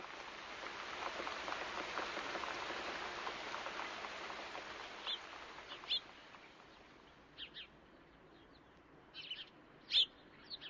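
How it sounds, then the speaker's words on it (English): Steady rain falls with a broad, even hiss that thins out after a few seconds. Scattered bird chirps and calls come through, and the sound stays fairly quiet and distant. "Then it began to rain."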